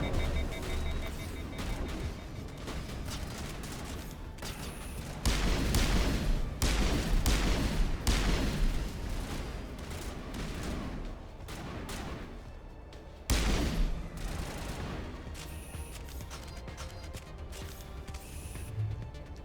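Gunfire in Mass Effect Legendary Edition, played on Insanity difficulty: loud bursts of shots and heavy impacts come in clustered volleys with brief lulls, set against a dense, noisy combat backdrop.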